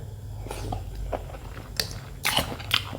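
Someone bites and chews pickled bamboo shoot curry up close, with soft crunching and squishy mouth sounds building to a few sharper crunches near the end, and no talk.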